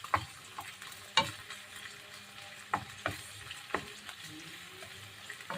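Garlic fries in a pan with a quiet, steady sizzle, broken by several sharp scraping clacks of stirring, heard up close with no talking.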